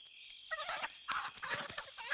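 Several hens sold as good laying fowl cluck in short, bright bursts, close and fairly clear, with a few overlapping calls across the span.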